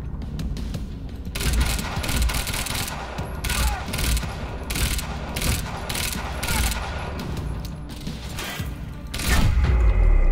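A magazine emptied in the shooter game Quantum Break: a rapid string of sharp, loud shots with mechanical clatter, fired in quick succession over a steady game backdrop, then a heavier burst at the end.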